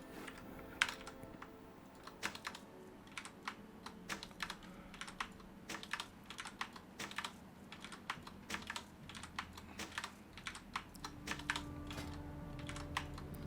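Quiet, close typing on a computer keyboard, with rapid irregular key clicks and short pauses throughout.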